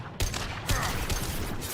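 Sustained gunfire in the Mass Effect 2 video game, a steady rattle of automatic weapon shots with a couple of sharper bursts near the start, dense and close throughout.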